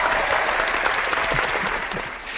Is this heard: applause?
yes